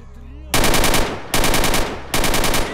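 Automatic gunfire in the video game STALKER, fired in three loud, rapid bursts close by, each a dense rattle of shots that starts abruptly after a short quiet lead-in.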